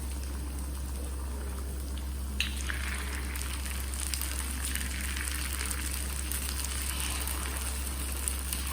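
Tiny baby potatoes cut into small chips deep fry in oil over a low-medium flame, a steady close bubbling hiss that holds constant, with a brief clink partway through.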